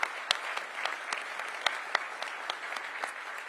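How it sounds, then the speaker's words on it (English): Applause from an audience at a public event announcing the Washington Commanders' return to DC, a dense steady wash of clapping with a few sharp individual claps standing out, fairly distant and moderate in level. "Give them a round of applause."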